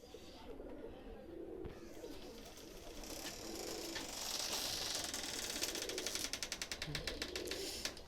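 Pakistani high flyer pigeons cooing close by, repeated soft low throaty coos in a slow rhythm over a rustling background, with a fluttering burst of rapid clicks near the end.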